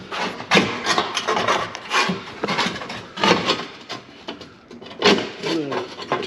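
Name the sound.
cutting exhaust pipe near fuel tank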